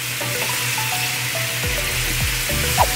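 A thick pork neck steak fries slowly in a pan, giving a constant close sizzle with some faint clinks and tonal kitchen noise mixed in.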